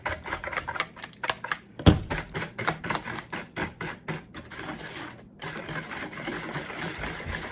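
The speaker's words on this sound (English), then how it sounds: "So I did go ahead and change out my spoon for a whisk." Whisk beating brownie batter in a bowl, a fast run of sharp clicking taps against the sides that pauses briefly, then resumes steadily, close and fairly loud with no talking.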